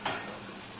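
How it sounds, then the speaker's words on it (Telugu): Broad beans fried with salt and turmeric being stirred in a pan, a brief close scrape over a low sizzle. "ఇలా ఉప్పు, పసుపు అంతా బాగా కలిసేలాగా మిక్స్ చేసుకొని"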